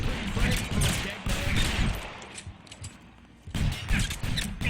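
Gunfire in L.A. Noire, a dense fusillade of shots in bursts with a brief lull in the middle before the firing resumes loudly.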